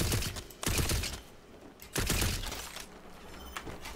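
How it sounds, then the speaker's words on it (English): Bursts of gunfire in the tabletop-fantasy shooter Borderlands: Bunkers and Badasses, two loud volleys separated by quieter stretches, with rattling, crackling tails and no speech. "Are you shooting at me?"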